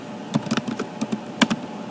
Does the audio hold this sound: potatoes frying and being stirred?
no